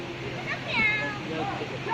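A cat meows briefly amid steady rain and rushing river noise outdoors, the cry faint and partly buried, with background voices murmuring.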